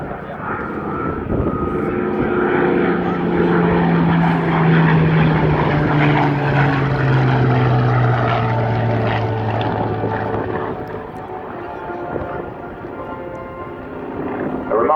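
A Hawker Hurricane propeller fighter flies past at an air show, its engine drone loud and continuous with a slowly falling pitch as it passes, fading slightly toward the end; faint voices may be mixed in.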